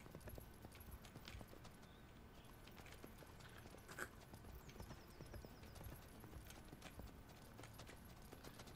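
Horse hooves clattering at a gallop in the video game Rustler, a steady rapid clip-clop under dense game ambience with a faint whinny, fairly quiet and continuous.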